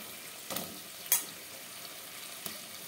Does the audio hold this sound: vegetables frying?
yes